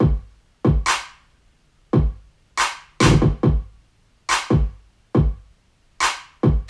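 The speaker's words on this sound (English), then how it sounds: "In place of a snare, I use a clap." Bright handclaps alternate with booming kick drum hits in a steady, syncopated electronic beat, loud and upfront with nothing else playing.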